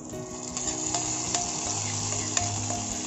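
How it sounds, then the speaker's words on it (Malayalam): Raisins and cashews fried in ghee are stirred into a pot of jackfruit payasam, giving a steady close-up sizzle with scraping stirs and faint utensil clinks throughout. "അപ്പോൾ മുന്തിരിയും കശുവണ്ടിയും വഴണ്ട് വന്നിട്ടുണ്ട് കേട്ടോ."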